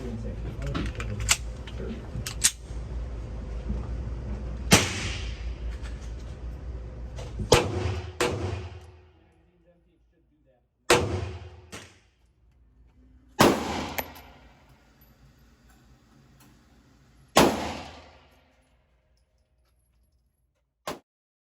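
Sharp pistol shots from a Sig Sauer P365XL and a Smith & Wesson Shield ring out at an outdoor range, singles and quick pairs spaced irregularly, loud and close, each with a short decaying tail, and the last shots stand apart after quiet gaps.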